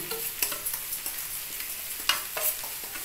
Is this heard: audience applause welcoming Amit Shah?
no